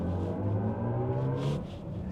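A BMW iX M60 electric SUV in sport mode gives off a low synthetic drive hum that swells briefly, close and moderately loud, with faint higher whirs near the end.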